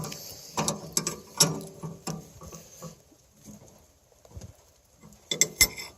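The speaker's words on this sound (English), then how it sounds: "I can tighten her up while holding the wrench" Intermittent clicking and ticking of a wrench working a hydraulic banjo bolt fitting, close and fairly quiet, in uneven bursts with pauses between, ending in a cluster of sharper clicks.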